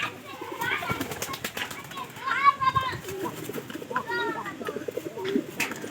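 Pigeons coo in soft, repeated rolling bursts, close by, with people talking and faint clattering in the background.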